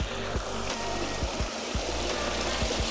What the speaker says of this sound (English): Here you can taste and collect one of the freshest naturally running spring water in Victoria.